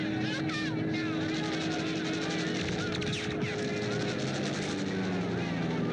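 A Messerschmitt warplane droning in over a wartime film scene, a steady engine roar filling the whole stretch with shouting voices layered over it.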